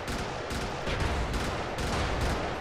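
Dense, continuous gunfire in the Brigador video game, a loud rapid barrage of overlapping shots and blasts with short surges every half second or so, filling the whole stretch without pause.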